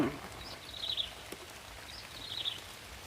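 Rain keeps falling steadily in the forest, a soft even patter across the whole stretch, with faint bird calls twittering high above it twice and one sharp click near the middle.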